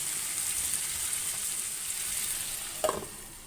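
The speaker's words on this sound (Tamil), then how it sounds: "பெருங்காயம் போட்டு வதக்கிட்டு மூடி வச்சு ஒரு 3 to 4 மினிட்ஸ் குக் ஆகட்டும்." Ridge gourd sautéing with asafoetida in a pan gives a steady, soft sizzle of frying, with a brief louder stir or scrape near the end and no talking.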